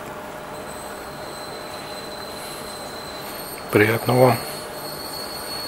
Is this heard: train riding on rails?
yes